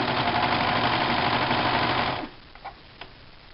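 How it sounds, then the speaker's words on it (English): A serger runs steadily and loudly for about two seconds while finishing the raw edge of mattress fabric, then stops abruptly, leaving a few faint clicks and handling noises. "Kind of just follow the edge of the presser foot right here. And so this is how I serge."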